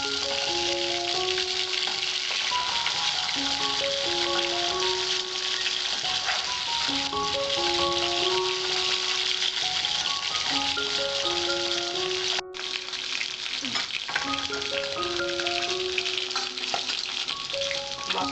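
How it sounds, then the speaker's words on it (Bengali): Pabda fish fry lightly in oil with a continuous soft crackling sizzle, steady and close, while music plays over it throughout. "মাছটা বেশি ভাজা যাবে না, মাছটা হালকা হালকা ভাজতে হয়"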